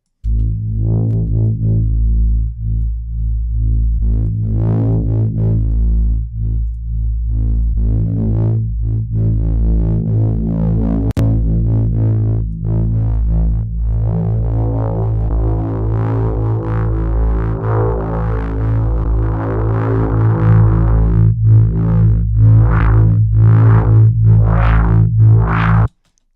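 A deep synthesized bass drone swells steadily, gaining buzzy upper layers and pulsing bursts as it rises in intensity, loud and alone.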